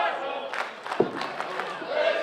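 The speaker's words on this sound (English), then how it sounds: "Crowd chanting, this is awesome." A wrestling crowd chants in a loud rhythmic pattern across the arena, with repeated shouted beats and a voice talking over it.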